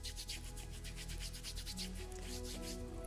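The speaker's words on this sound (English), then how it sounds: "Rub the tape to activate the glue." Kinesiology tape is rubbed by hand in fast rhythmic strokes, a soft close-up scratchy friction, quiet and alone.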